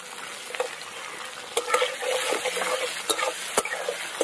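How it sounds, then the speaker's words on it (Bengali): Chopped onion frying with potatoes in a pan, a close steady sizzle broken by scraping stir strokes and a few sharp clacks of the utensil against the pan, with no talk. "পেঁয়াজটা দিয়ে একটু আলুর সাথে হালকা করে ভেজে নিতে হবে"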